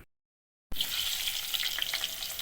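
Bitter gourd pieces dropped into hot oil for deep frying: near-silence, then a sudden burst of vigorous bubbling and crackling that stays loud and busy, with no voices.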